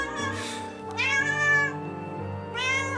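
A cat meows repeatedly at its owner returning after three days away, loud drawn-out meows in three bursts over a steady low hum.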